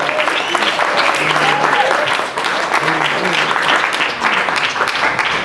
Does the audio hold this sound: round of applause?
yes